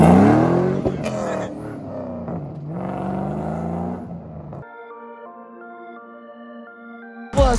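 An Acura Integra engine revs hard through several rising and falling sweeps for about four seconds, loud and close, before a steadier tonal drone takes over.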